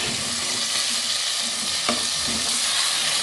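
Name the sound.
chicken frying in oil in a handi pot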